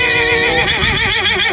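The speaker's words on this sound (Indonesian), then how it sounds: "Wadidaw, kuda." A horse gives a loud, close whinny, a single sustained neigh with a wavering, trembling pitch that lasts over a second, heard alone.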